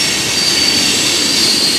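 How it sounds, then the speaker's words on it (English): A train passes near the top of a waterfall at Buttermilk Falls, a loud steady roar of rolling wheels with a thin high squeal running through it, with no talking. "There's a train."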